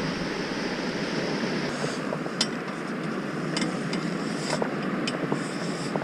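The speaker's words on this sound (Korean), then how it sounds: "서해권은 파도가 보시는 바와 같이 뭐 이쯤입니다" Small, gentle waves wash onto a sandy Yellow Sea beach at Hakampo in Taean, heard as a steady, soft broadband surf with a few faint clicks on top and no voices.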